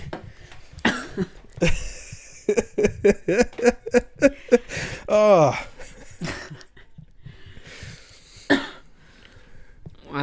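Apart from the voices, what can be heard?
coughing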